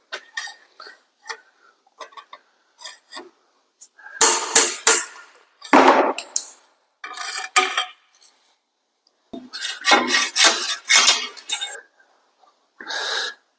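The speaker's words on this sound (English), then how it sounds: "I just tap them out with the hammer" A hammer drives a piece of pipe to knock out the inner axle seals of a Jeep Dana 44 front axle, giving a series of sharp metallic taps, some single and some in quick bursts, alongside talking.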